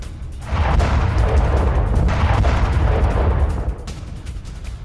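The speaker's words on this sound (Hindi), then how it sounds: "इस धमाके की आवाज सुनाई दी।" A deep, rumbling explosion in Moscow, heard for several kilometres, sustained for several seconds, heavy low-end roar filling the scene before slowly tapering off.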